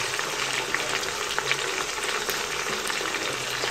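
Mutton frying in a pan for a creamy mutton dish, a steady close broadband sizzle that holds evenly throughout with small crackling pops and no talk.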